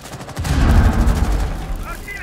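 Rapid bursts of gunfire in the video game Rainbow Six Siege, played on the Bank map, booming and dense for most of the moment, with a short voice near the end.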